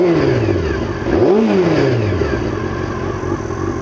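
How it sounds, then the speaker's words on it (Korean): A small Honda CBR400RR NC29 four-cylinder motorcycle engine revs up and down, pitch rising sharply then settling into a steady high idle, loud and close. "이렇게 작은 차체에다가 4기통 엔진이 올라간 바이크가 어디 흔합니까?"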